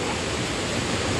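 A river rushes past a natural rock slide as a steady, dense, loud roar of flowing water with no breaks.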